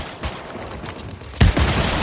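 Gunfire in the mobile shooter game High Energy Heroes, played on a Samsung S22 Ultra: a low rumble with scattered reports, then a louder, heavier burst of rapid shots after the midpoint that keeps going to the end.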